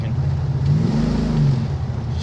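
Car engine with lots of torque accelerating while driving over a bridge, a steady deep low rumble with a slight swell in pitch, loud and continuous with road noise.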